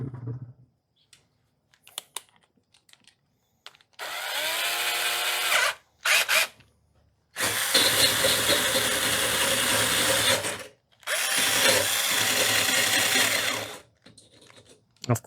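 A wire wheel on a power tool scours a weld on a busted zero-turn mower deck, running in three loud sustained bursts of whirring and grinding, separated by short pauses and brief on-off blips.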